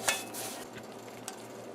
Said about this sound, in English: Molly is adding the pot here now.